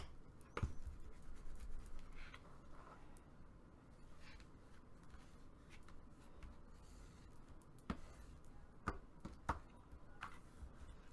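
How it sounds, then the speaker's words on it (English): A burnishing tool rubs patterned paper onto card for a paper folio, giving quiet scratchy strokes and soft rubbing scrapes with a few light taps, close but faint. "adhere it with my burnishing tool."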